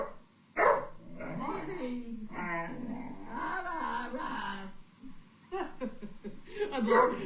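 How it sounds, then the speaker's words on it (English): A dog in a home barking a few times in short sharp bursts, fairly near, mixed with a person talking and some laughter. "And it's really funny when she barks, Larky just puts his head up and looks in th"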